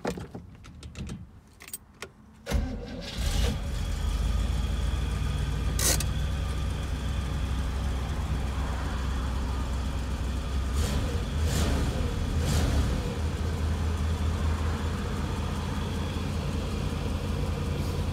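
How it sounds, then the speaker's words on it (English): A green 1965 Corvette convertible with a 327 cubic inch, 300 hp V8 and four-speed, cold started after some key jangling, then settling into a steady, loud, rumbling idle with a few brief blips along the way. "cold start video of a 1965 Glen Green with white interior Corvette convertible"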